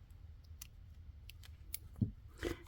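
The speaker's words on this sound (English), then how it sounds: "So you just want to do a little cut, and don't cut your sewn piece down here." Scissors making a small cut in sewn fabric for a tiny purse, a few quiet close snips and blade clicks spread over a couple of seconds with no talking.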